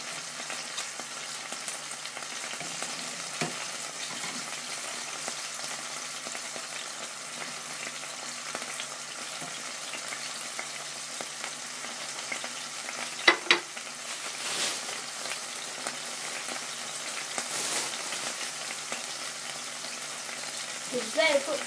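A steak fries in a pan with a continuous crackling sizzle and a few sharper pops, steady and close throughout.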